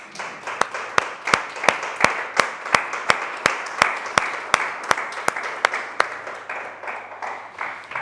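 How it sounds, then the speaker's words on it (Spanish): A church congregation claps in a strong, regular rhythm, sharp beats about every half second echoing in the hall over a softer bed of scattered clapping, fading slightly toward the end. "Dale un fuerte aplauso a Cristo Jesús."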